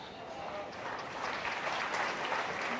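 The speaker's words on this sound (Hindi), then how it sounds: "ताली किसके लिए बजा रहे हो मेरे भाइयों?" Audience at an award ceremony applauds a speech, a soft, distant wash of clapping that swells slightly toward the end, with crowd voices mixed in.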